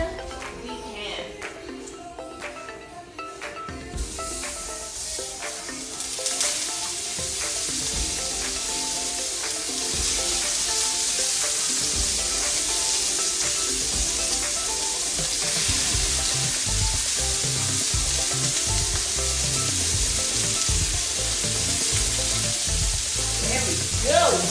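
Pork chops, seasoned with salt and pepper, sizzle and fry loudly in a hot pan, a steady hiss building and holding for the length of the clip with occasional light kitchen clatter.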